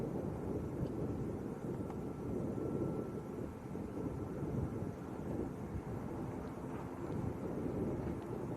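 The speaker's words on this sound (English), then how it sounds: "Binter taxiing out, going out to Tenerife North." A Binter airliner taxis out at Lanzarote Arrecife airport, bound for Tenerife North: a steady, wind-buffeted low rumble that holds evenly at a distance throughout.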